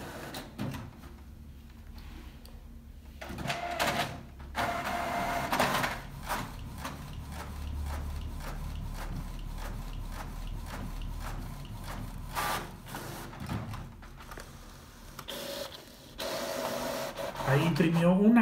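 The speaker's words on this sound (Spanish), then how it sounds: "Ahí imprimió una cara y volvió a jalar el papel para imprimir la segunda cara." A Canon Pixma G7010 inkjet printer runs a double-sided print job, giving a series of mechanical whirs, clicks and paper-feed clunks with a rhythmic stretch of print-head passes, close by with a voice speaking at times.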